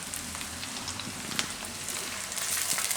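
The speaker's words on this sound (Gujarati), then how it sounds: "તો આ રીતે કડક થાય એવું તળી લેવાનું એમ." Close, continuous hiss and crackle of raw banana sticks deep frying in oil, with a few brighter pops, no talking.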